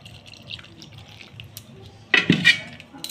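Milk is poured into pati shapta batter in a home kitchen with a brief, close splash and gurgle lasting about half a second, amid quiet background clinks.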